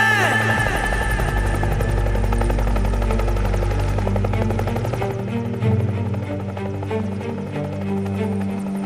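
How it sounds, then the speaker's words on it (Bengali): A military helicopter approaches during the Bangladesh Army Anirban 2026 event, its loud, throbbing rotor drone filling the scene and easing slightly partway through. "স্যার হেলিকপ্টার আসছে স্যার, হেলিকপ্টার আসছে স্যার।"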